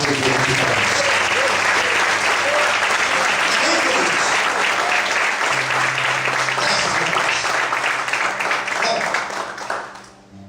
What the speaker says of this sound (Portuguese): Ocupe a sua mão e aplaude o Senhor.